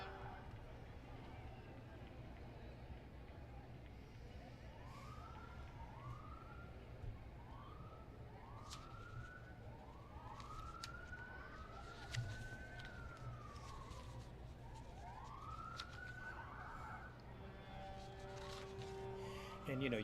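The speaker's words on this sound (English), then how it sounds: "Yes, definitely hear the sirens." Emergency vehicle sirens wail repeatedly in rising and falling sweeps, moderately distant, at the Mountain State Forest Festival Grand Feature Parade, over a constant low crowd murmur with voices talking.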